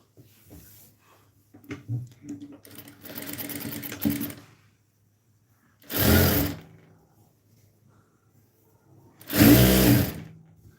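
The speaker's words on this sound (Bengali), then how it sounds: "এই যে নিচের পাশটা সেলাই করে নেব" A sewing machine stitches the folded bottom hem of a piece of fabric, running in two loud bursts of about a second each after a stretch of quieter handling and rustling.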